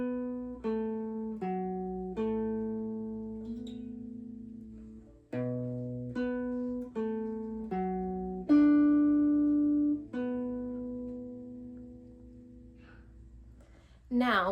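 Two guitar riff parts played back to back as one continuous line, clear plucked notes with ringing harmonics, several notes per second, steady and close, with no talking.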